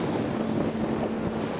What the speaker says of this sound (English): The wind speed just picked up a bit.